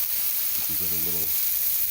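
A turkey dinner fatty sizzles in a hot pan, a constant close frying hiss throughout, with a voice murmuring briefly underneath.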